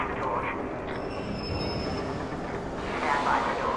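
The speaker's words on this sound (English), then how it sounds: "Train has arrived. Watch the doors." A train pulls into a station in the video game ARC Raiders, a steady rumble of rolling wheels and carriages with a faint high squeal, loud and continuous for the whole stretch.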